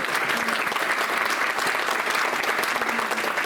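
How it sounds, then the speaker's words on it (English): Audience at a distinguished alumni awards luncheon applauding college deans: steady, dense clapping from many hands that fills the room evenly and stays loud throughout, with no voices standing out. "they do deserve your applause"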